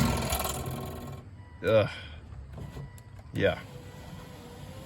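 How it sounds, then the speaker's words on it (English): A faulty power window regulator in a Volvo S80, S60 or XC90 grinds and scrapes as the glass goes up, in two loud strained bursts a second or so apart, close by, with a brief spoken word at the start. "makes another terrible sound, and then it goes up."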